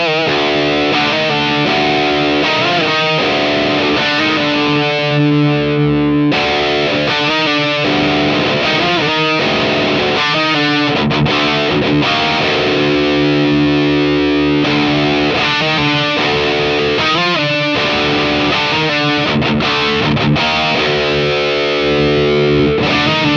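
Electric guitar played through an Abasi Pathos distortion pedal with the bass dial at zero, giving a loud, thin, heavily distorted tone in chugging riffs and sustained chords with short breaks, alone without talk.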